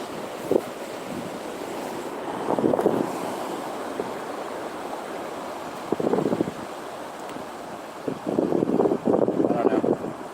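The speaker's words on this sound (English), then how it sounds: "Can someone chime in and say whether or not you can hear the water?" Ocean surf washing onto a beach at night, a steady wash of water with several louder breaking surges, mixed with wind noise on the microphone.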